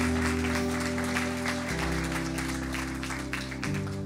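Applause from a church congregation in Le Havre, continuous clapping over loud sustained music with shifting chords.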